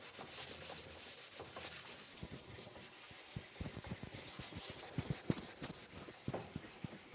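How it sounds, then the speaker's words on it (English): An orbital sander fitted with a 220-grit mesh pad lightly sands painted cabinets, close and fairly quiet, with a rasping rub broken by repeated short scraping strokes and pauses. "you just want to hit them with a light sanding of 220 just to smooth out any imperfections or blemishes"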